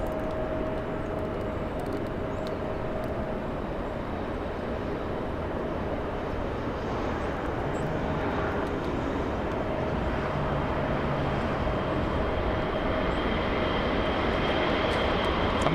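Lufthansa Airbus A380 airliner taxiing at LAX, a steady, broad engine rumble with a faint constant whine, unbroken and moderately distant throughout.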